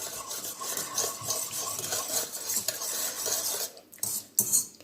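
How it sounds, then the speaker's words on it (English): Bulgur wheat and stock for tabbouleh being stirred in a large bowl, a continuous close scraping and swishing of a spoon against the bowl with wet churning, steady and fairly loud, with a few brief knocks near the end. "and then simply stir."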